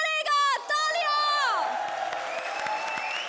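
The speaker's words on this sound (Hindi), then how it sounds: "तालियां।" Audience applause and cheering on a comedy show stage, following a loud sung or shouted musical flourish, then settling into steady crowd clapping with whoops in the background.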